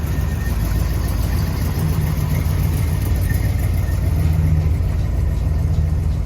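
A 1972 Oldsmobile 442 tribute with a four-barrel V8 idles steadily nearby, a continuous low rumble that holds at an even level throughout with no talking.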